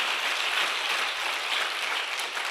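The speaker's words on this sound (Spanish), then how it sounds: "Estos aplausos son para ti." Church congregation applauding, a dense, steady wash of many hands clapping that fills the space evenly without breaks, moderately loud and heard alone.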